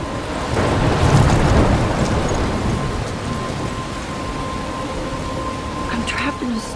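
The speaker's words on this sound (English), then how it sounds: "I'm trapped in a storm?" Thunderstorm in the video game Life is Strange: heavy rain and wind roar steadily, with a low rumble of thunder early on and faint tonal game sounds near the end.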